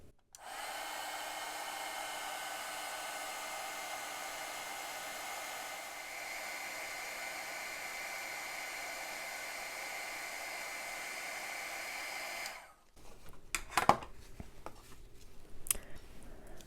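A heat embossing tool gives a steady, loud, shrill blowing whir continuously for about twelve seconds, then cuts off, leaving a few scattered clicks and handling noises.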